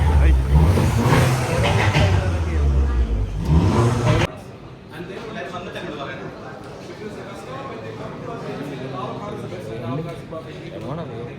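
A stage 2 tuned turbo car engine revs loudly in a crowded tuning workshop, the roar cutting off abruptly partway and giving way to a lower idle with people talking over it.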